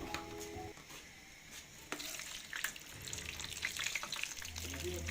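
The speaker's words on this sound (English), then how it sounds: "I'm removing this from the oil, and then I'll add more of the dough as I keep cooking." Mandazi dough frying in hot oil, a steady crackling sizzle with scattered sharp pops and some utensil clatter, moderately loud and close, with no talking.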